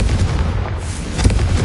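The Confringo blasting spell explodes in Hogwarts Legacy with loud, booming, rumbling blasts that overlap into a dense, low roar, and a sharper burst comes near the end.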